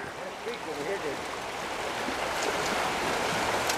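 Steady rushing flow of the Bonaparte River in Cache Creek, British Columbia, a river that had flooded, heard as a broad continuous wash of water close by, with a voice speaking briefly over it.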